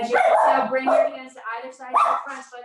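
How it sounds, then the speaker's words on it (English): A dog barks indoors in short bursts during a home yoga class, mixed in with someone steadily talking through the poses. "Sorry about the dog."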